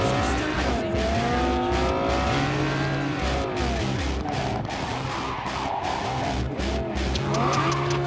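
Video-game car in Cyberpunk 2077 skidding under handbrake braking, with tires squealing over a revving engine that rises and falls continuously and loudly throughout.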